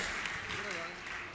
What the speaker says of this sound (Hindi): जोरदार ताली देकर इनका सम्मान करें।